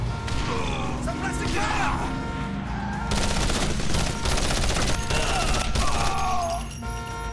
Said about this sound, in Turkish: Şöyle iki tane el bombası sallayalım.